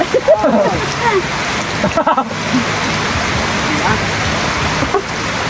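Heavy December rain pours down on a house roof in a steady, close broadband roar, with faint voices and a few splashing clatters near the start.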